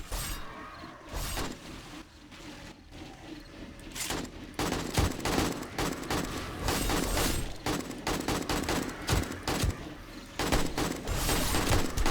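Sustained automatic gunfire and rapid shot bursts from a 7 Days to Die horde fight, dense and loud throughout with brief gaps, no talking.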